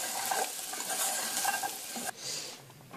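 Castilian soup with bread crumbs stirred in a pot over very low heat, giving a close, steady scraping and soft sizzle with light clinks of utensil against metal, then a quieter, softer stretch near the end.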